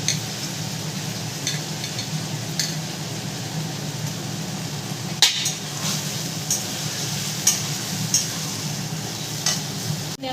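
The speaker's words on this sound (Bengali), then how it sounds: "এবারে ভালো করে নেড়ে নেব" Peas and chopped tomato stirred into a frying curry, a low steady sizzle with occasional sharp scraping clicks of the spoon against the pan, close and quiet, with a constant background hum.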